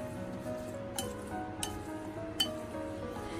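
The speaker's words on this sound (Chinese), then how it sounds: "再用筷子给它充分的搅拌均匀，使每一节四季豆都能够均匀的裹上一层薄薄的食用油" Chopsticks stirring oil-coated green beans in a large bowl give a few sharp, separate clinks against the bowl over a soft, steady background.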